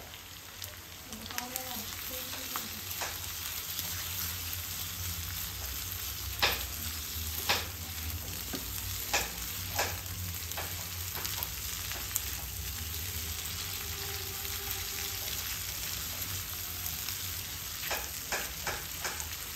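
Garlic paste and turmeric fry in oil for prawn masala curry with a continuous close sizzle, while a spatula scrapes and taps the pan repeatedly throughout.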